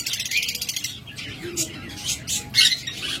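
A pair of opaline pet birds chirps in short, bright bursts, squawks and tweets coming in quick uneven clusters at close range over faint background noise.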